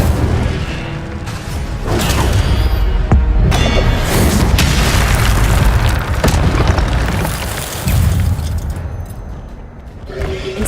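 Fiery spell blasts from Incendio being cast in Hogwarts Legacy, a string of loud booming bursts and crackling whooshes repeating every second or two over a dense, continuous game soundscape.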